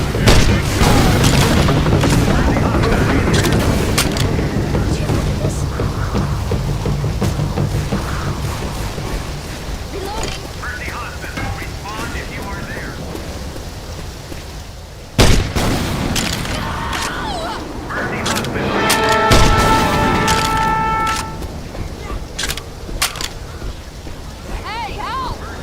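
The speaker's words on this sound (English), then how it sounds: "Shotgun." Shotgun blasts in a video game, heavy booming reports over a dense, noisy game soundscape, with a sharp burst partway through and spoken voices mixed in.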